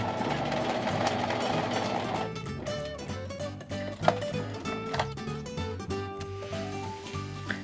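A sewing machine runs along a fabric seam in a rapid, rhythmic chatter of needle strokes, briefly pausing and resuming as it stitches and backstitches, close and alone without talk.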